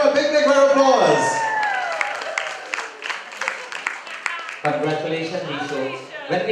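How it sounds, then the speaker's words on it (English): Applause and cheering from a crowd at an awards ceremony, clapping running through the clip under loud sustained tones and voices, with some shouts rising over it. "Give him a big, big round of applause."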